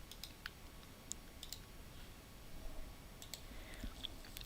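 Several sharp, isolated computer mouse clicks, spaced irregularly and faint over low background noise, with no talking.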